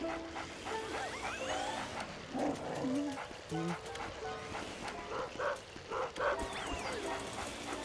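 Dog barking and whimpering in the video game Luigi's Mansion, short yips and whines rising over game music and ambient effects, with someone talking over parts of it.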